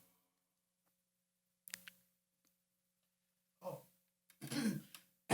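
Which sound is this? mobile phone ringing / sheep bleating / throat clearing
throat clearing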